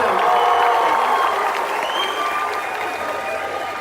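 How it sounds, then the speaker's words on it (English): A large outdoor college graduation crowd applauds and cheers loudly, a thick roar of clapping with whistles and shouts that slowly eases over a few seconds. "Give them a round of applause and make some noise."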